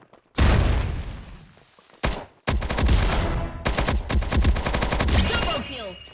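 Rapid bursts of P90 submachine gun fire in the Bullet Angel video game, loud close volleys broken by a short pause, then sustained rattling shots with metallic clicks near the end.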